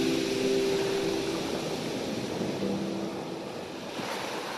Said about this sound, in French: Ces vagues douces qui déferlent sur ces rochers favorisent une forte activité de pêche.